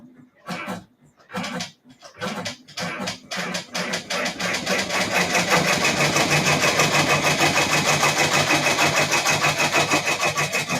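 An embroidery machine sewing a tack down stitch starts with a few short stuttering bursts, then runs continuously in a fast, even needle chatter, close and fairly loud with no talk.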